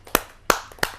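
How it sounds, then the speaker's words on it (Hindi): At a kavi sammelan poetry gathering, an audience welcomes a poet with hand claps: three sharp, close, separate claps spaced roughly a third of a second apart, with quiet between them. "आइए रायगढ़ से पधारे हुए प्रकाश चंद्र कांसा जी का स्वागत करते हैं आप सबकी जोरदार तालियों के माध्यम से।"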